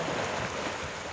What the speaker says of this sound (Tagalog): Ang lakas ng hangin mga katropa